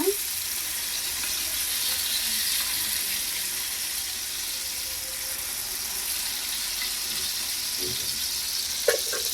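Potato and carrot cutlets fry in a pan with an even, steady sizzle close by, broken by a couple of faint clinks, and no voices.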